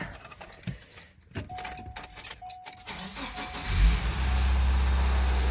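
Keys jangle in the ignition of a 2000 Subaru Forester with a faulty, threadless timing belt tensioner, then the starter cranks and the engine catches. It settles into a loud, steady idle close by.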